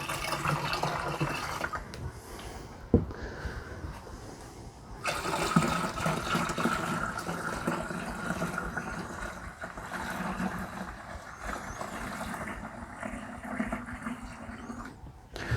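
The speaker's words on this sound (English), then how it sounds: "I'm just rinsing out whatever remaining soap might have been in the jar" Water runs steadily into a jar to rinse out leftover soap while topping a homemade deer repellent mix up to one gallon, a continuous rushing fill with a brief knock partway through and no talking.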